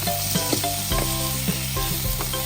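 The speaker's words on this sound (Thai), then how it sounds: "เราจะทำการผัดไป เรื่อยๆจนกุนเชียง เริ่มพองตัวนิดนึง" Chinese sausage stir-fried with a splash of fish sauce for Thai basil stir-fry, with steady close sizzling under repeated scraping and clinking of a spatula against the pan.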